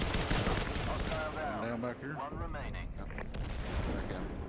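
Rapid secondary-weapon gunfire in the video game Firewall Zero Hour, dense loud bursts that fill the clip, with a voice talking over the shots.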